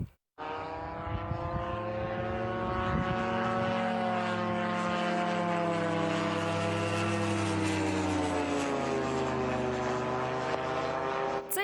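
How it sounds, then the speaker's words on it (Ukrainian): An attack drone flies past on a long-range strike mission toward Izhevsk, its propeller engine giving a steady, loud buzzing drone with many harmonics that slowly waver in pitch as it passes, with no voices over it. "Дрон, як і десяток його товаришів, пролетів не одну тисячу кілометрів."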